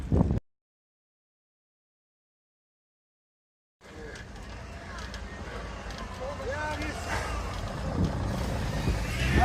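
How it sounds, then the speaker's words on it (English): Road traffic in a jam on the way to Kosovo, with truck engines rumbling and air brakes hissing, builds steadily louder after a short burst and a stretch of silence, filling the remaining seconds as a continuous close roar. "Some sort of traffic jam going on."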